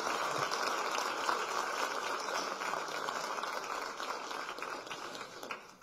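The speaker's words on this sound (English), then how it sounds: "Give her a big round of applause." Audience applause at an event against violence toward women, sustained dense clapping at moderate volume that tapers slightly before ending.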